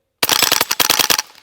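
Rapid string of about a dozen close, sharp shots from a Ruger 10/22 rifle firing tracer rounds at a plate rack, evenly spaced, then stopping abruptly.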